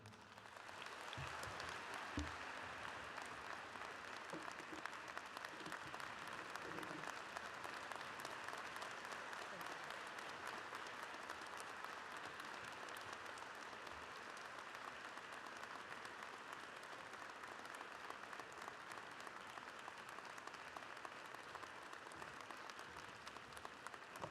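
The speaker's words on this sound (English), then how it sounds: "I think that deserves another round of applause." Sustained audience applause fills a large hall at a university president's inauguration, a dense steady wash of many hands clapping, loud and unbroken for the whole stretch with faint crowd murmur beneath.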